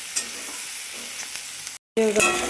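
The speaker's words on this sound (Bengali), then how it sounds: "এটাকে পুরো লাল লাল করে ভাজা হবে" Spice paste frying in a generous amount of oil with no water added, a steady close sizzle with stirring scrapes, broken by a brief silent gap before the frying resumes.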